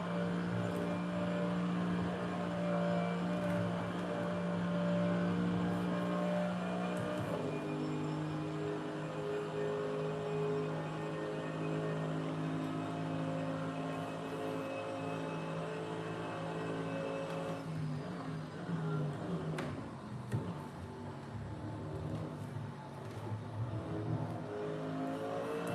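GT3 race car engine in the Assetto Corsa racing game during a practice session, droning continuously with rising and falling revs and gear changes, fairly loud and alone.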